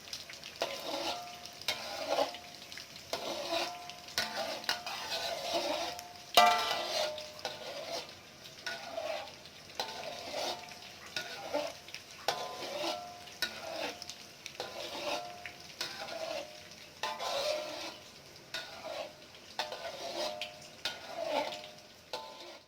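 Round tofu balls deep-fry in hot oil as a continuous soft sizzle, with repeated scraping and stirring knocks from a utensil against the pan in an irregular rhythm, no voices.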